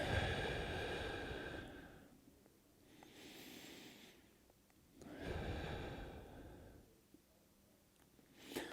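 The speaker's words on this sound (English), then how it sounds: "Hear me breathing." Slow, deep breathing close to the microphone: two long airy inhales each followed by a quieter exhale, in an unhurried, even rhythm.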